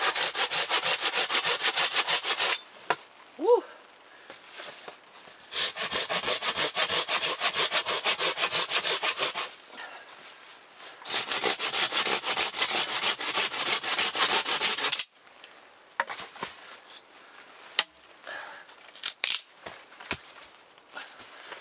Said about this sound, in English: Splitting wood with a saw.